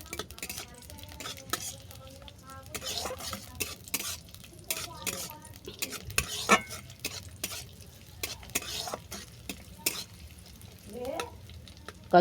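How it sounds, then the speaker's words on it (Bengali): Chopped cashews and raisins fry lightly in oil while a spoon stirs and scrapes the pan continuously, giving a busy run of close clinks and scrapes over a low sizzle. "দিলাম কুচানো কাজু আর কিশমিশ এটা হালকা করে ভেজে নেব"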